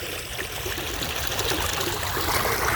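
Water drains steadily out of a pipe at a construction site, giving a continuous near rushing trickle with no pauses throughout.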